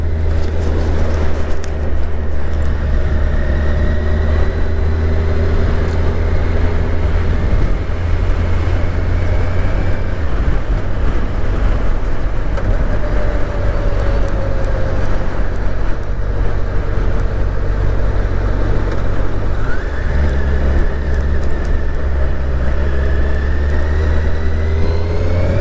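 Kawasaki Ninja 1000SX motorcycle riding on a road loop, heard from inside a closed helmet: a loud, continuous engine drone with heavy wind roar and gradual pitch shifts as the revs rise and fall.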